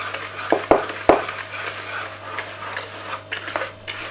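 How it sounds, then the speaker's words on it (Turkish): A spoon lightly stirring and blending dry dessert ingredients with vanilla and baking soda in a bowl, a few sharp clinks against the bowl followed by soft scraping and mixing sounds, with no talking. "Şimdi şunu hafiften şöyle bir harmanlayalım."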